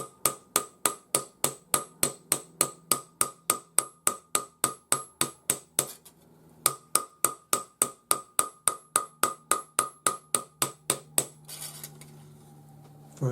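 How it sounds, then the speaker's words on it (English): A small jeweler's hammer taps a metal lighter cover in a fast, even rhythm of bright ringing strikes, pausing briefly once before resuming, then stopping. "So I'm just going to use this part of my jeweler's hammer to start at the middle."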